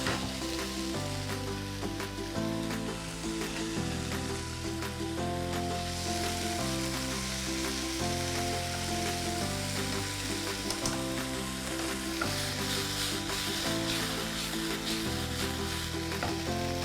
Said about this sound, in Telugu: అది అలా ఫ్రై అవుతూ ఉండని